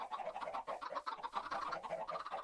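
Chickens in a farming video game cluck softly in a quick, busy chatter of overlapping calls, faint and steady for a couple of seconds with no talking.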